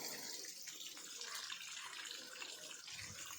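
Water runs steadily from a hose or tap while banana plants are watered outdoors, a continuous broadband rush with no pauses and a brief low thump near the end.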